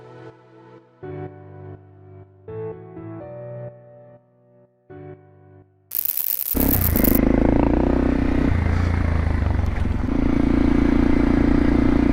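A motorcycle starts and pulls away, its engine rumble and rushing wind noise rising loud and constant after a stretch of quiet electronic tones from a Fodsports M1-S Plus Bluetooth intercom.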